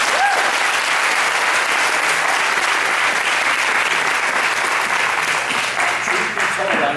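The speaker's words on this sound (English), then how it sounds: "Let's give them a big round of applause." A room full of people applauds steadily for seven seconds at an Eagle Scout Court of Honor ceremony, the dense clapping loud and even throughout.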